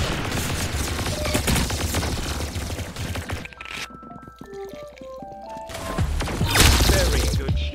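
Bursts of gunfire from the Roblox game Arsenal crackle in quick succession, pausing while soft musical tones play, then returning louder near the end.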